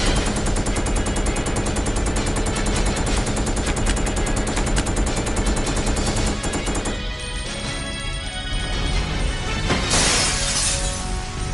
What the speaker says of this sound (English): What a shot by Claire.